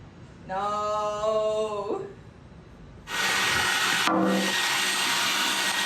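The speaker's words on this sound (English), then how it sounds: "This is a beast vacuum." A powerful wet vacuum cleaner first gives a tonal motor whine for about a second and a half, then roars loudly with steady broadband suction noise, briefly cutting out before resuming.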